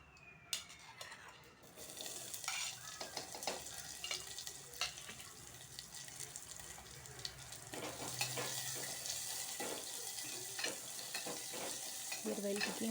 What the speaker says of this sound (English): add very little oil. In that add mustard seeds and then onion and green chilies